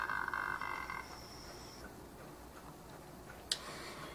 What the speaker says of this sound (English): You can also listen to the sound that the bird makes.